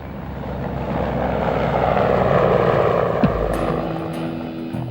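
A Mil Mi-24 Hind helicopter's twin 2,200-horsepower turbine engines roar steadily with a broad rumble and a whining tone, holding constant throughout with a brief thump near the end.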